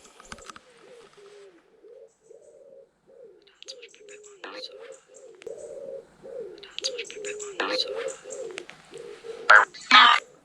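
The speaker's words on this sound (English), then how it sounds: "As usual, we've got birds in the background making an absolute racket." Pigeons coo in a steady run of soft, low repeated calls close by, while other birds chirp and chatter loudly in bursts over them outdoors.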